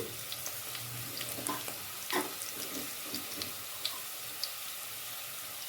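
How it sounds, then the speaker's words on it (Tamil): Sliced onions sautéing in a pan while cooking plain kuska, a steady close sizzle with occasional faint stirring clicks and no voices. "வெங்காயம் இந்த மாதிரி நல்லா வணங்கிடணுங்க"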